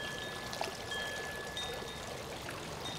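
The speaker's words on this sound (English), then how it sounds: "Next, I'm adding in my vodka." Vodka is poured steadily into a martini glass, a continuous liquid trickle lasting a few seconds and heard close up, without talk.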